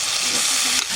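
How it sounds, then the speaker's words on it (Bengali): Potatoes frying in a pan of hot oil make a loud, dense, continuous sizzle for about a second, with a slight dip near the end. "আলু কটা ভেজে নিচ্ছি।"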